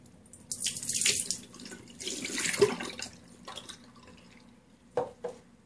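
Water is splashed onto a face in repeated wet handfuls, close and moderately loud, followed by a couple of brief drips and splashes near the end.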